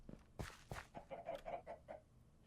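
Chickens cluck in a video game, a quick series of short clucks at close range with a couple of sharp louder bursts near the start.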